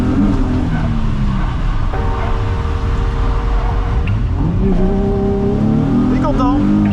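A drift car does backies at a drift event, its engine revving and wailing in rising and falling pitch with tyre noise, loud and close, while a commentator talks over the action.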